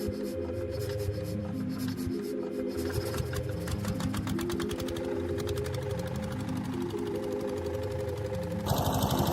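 Small boat motor running steadily on the water, a loud, close, rhythmic mechanical chugging that holds constant throughout, with a brief shift in tone at the very end.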